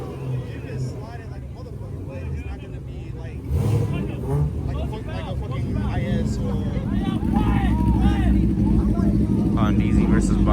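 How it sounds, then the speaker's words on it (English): A Nissan GT-R R35 starts up at a car and motorcycle meet, its engine rising to a low, steady rumble beneath ongoing conversation and other nearby vehicles. "Was that the R35 that just started up?"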